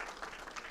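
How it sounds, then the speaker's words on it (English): A brief burst of audience applause at a design, fashion and innovation event, a dense wash of clapping heard for under a second. "Another round of applause for them."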